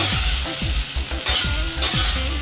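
Beef and vegetables stir-fried on a Hunsaker griddle set on a WSM smoker, a steady loud sizzle broken by repeated scraping strokes of a utensil across the metal surface.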